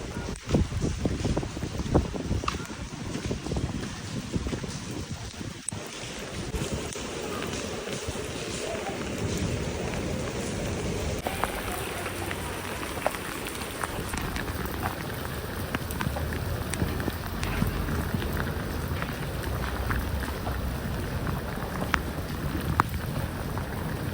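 Steady rain patters down continuously with a dense hiss and scattered drops, heard close by with some wind rumble on the microphone and no voices.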